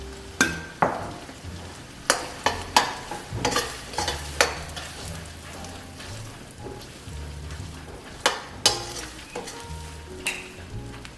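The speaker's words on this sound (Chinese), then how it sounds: "慢慢的炒，炒出蟹油。" Crab is slowly stir-fried in a wok to render crab oil, with sharp scraping and clattering spatula strokes over a continuous soft sizzle, close up and without talk.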